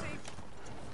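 Horse galloping in the Red Dead Redemption video game, a steady close clatter of hooves running continuously under game noise and a voice talking.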